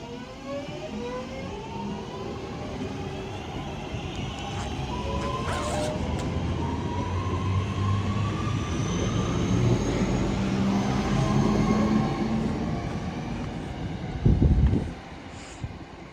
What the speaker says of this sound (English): Departing out now is the 1507 Northern service from Manchester Piccadilly to Stoke-on-Trent.